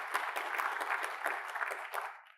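Audience at a university hub launch event applauds a Japanese ambassador with a short burst of clapping, individual claps audible in a fairly sparse, indoor-sounding round that dies away after about two seconds.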